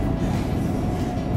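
A train running with an empty railway carriage gives a steady, loud low rumble of wheels and car noise that continues unbroken throughout, close by, with no voices.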